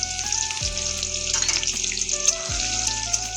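Chopped onion hits hot oil already crackling with cumin seeds fried dark and dried red chili, giving a loud, steady sizzle with bursts of spitting and crackle close up.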